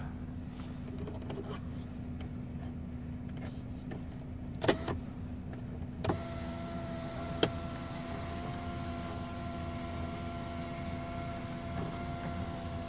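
The roof sunshade blind of a Mitsubishi ASX 1.6 petrol slides closed under its panoramic glass roof: a low, even electric motor hum inside the cabin, broken by a few sharp clicks and a soft clunk as it travels.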